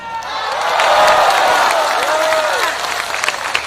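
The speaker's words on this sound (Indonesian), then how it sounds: "Tepuk tangan baru kau tunggu." Audience applause during a humorous Islamic sermon, a large crowd clapping steadily with some cheering and voices rising over it, swelling then tapering into scattered claps.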